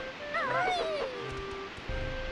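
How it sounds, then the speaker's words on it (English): Jinjo whistling in the Banjo-Tooie video game: a short run of bright, wavering chirpy whistle notes rising and falling, clear over steady game ambience with a low rumble. "I did hear Jinjo whistling"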